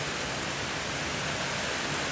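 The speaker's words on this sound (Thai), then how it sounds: "ฝนโตครับพี่น้องเอ้ย นะครับฝนโตครับ" Dense, steady roar of heavy rainfall, an even broadband wash with no breaks or voices.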